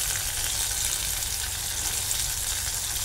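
Thin-cut potato sticks and tomato fry in hot oil, giving a steady, loud, continuous sizzle with no pauses and no voices.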